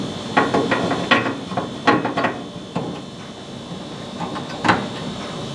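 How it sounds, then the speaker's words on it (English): Screws being unscrewed from the control panel of a kitchen range hood, a series of close, short ratcheting clicks and scrapes coming in irregular bursts over several seconds, with no talking. "First screw out, careful not to drop it."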